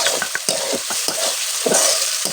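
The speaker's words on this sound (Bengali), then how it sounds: "এখন জল দিয়ে এগুলোকে ভালোভাবে মিক্স করে নেওয়া হবে" Spices for mutton curry are stirred with water in a hot pan, giving a busy sizzle broken by repeated scraping strokes, close and fairly loud, with no voices.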